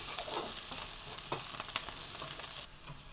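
Garlic fries in the tarka for dal with a quiet, steady sizzle and a few soft stirring clicks, then the sizzle drops off near the end.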